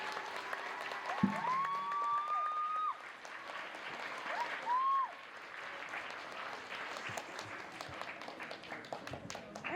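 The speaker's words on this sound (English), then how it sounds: "Can we give them another round of applause?" Audience applause following a cultural performance at a community sharing event in Happy Valley-Goose Bay, steady clapping from a crowd throughout, with a few whistle-like tones and a brief thump near the start.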